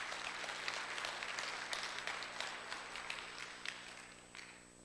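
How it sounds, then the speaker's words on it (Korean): A church congregation applauds quietly in a reverberant sanctuary, a soft, distant wash of scattered clapping over a low hum that gradually thins out. "우리 박수로 한번 격려하시면 좋겠습니다."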